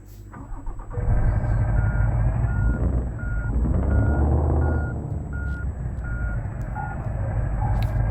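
A truck reverses in the Truckers of Europe 3 driving game, its evenly spaced reversing beeps repeating about once a second over a steady, close engine drone.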